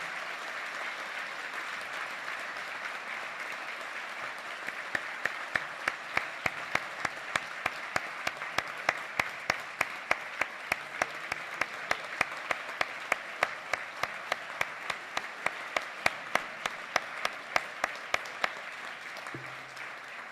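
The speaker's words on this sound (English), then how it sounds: "Can we please give a round of applause to our Superior Court judges who are here today?" Steady audience applause for Superior Court judges at a judiciary address, a long even wash of clapping from a large hall with a few sharper individual claps rising through the middle.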